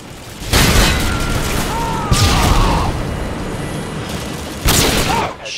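Sniper gunfire in a video game: three loud, booming shots spaced a couple of seconds apart, each trailing into a rumbling echo over continuous game ambience.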